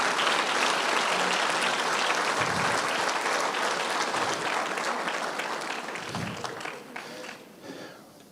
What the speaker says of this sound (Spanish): Dame un aplauso a mis artistas de esta mañana.